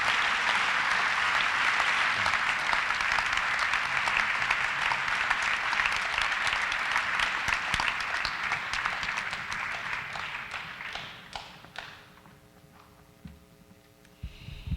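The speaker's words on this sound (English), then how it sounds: "Let's give them one final round of applause" Audience applause at a high school academic awards night, dense sustained clapping from a large crowd in a hall, loud and steady before thinning out and fading near the end.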